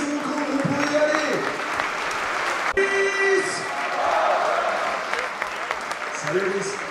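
Audience applauding Aviron Bayonnais rugby players at a season squad presentation, a steady broad wash of clapping throughout with an announcer's amplified voice talking over it.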